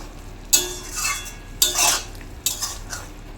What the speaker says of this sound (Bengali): একটু ভালোভাবে নাড়াচাড়া দিয়ে নেবো